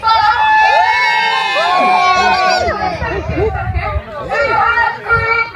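Adults and children in a crowd cheer and shout loudly together, a sustained mix of high-pitched screams and yells that drops into excited chatter.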